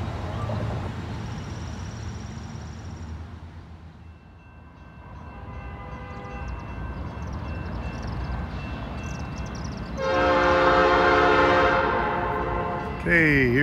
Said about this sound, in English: Here comes a northbound NS intermodal.